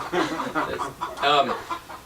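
Chickens cluck and squawk in short bursts close by at a Finger Lakes winery, a busy flurry of fowl calls with a few louder cackles near the end.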